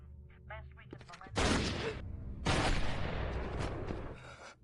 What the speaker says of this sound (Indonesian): menjadi sasaran tembakan brutal dari atas rumah